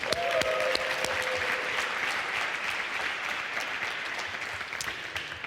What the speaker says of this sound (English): So give a big applause to Espan.